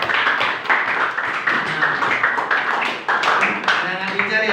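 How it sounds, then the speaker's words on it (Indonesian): A classroom of students claps for a classmate, a close, fairly loud burst of hand claps with uneven rhythm, continuing steadily throughout with some voices and chatter underneath. "Ya, tepuk tangan sekali lagi buat Ervan."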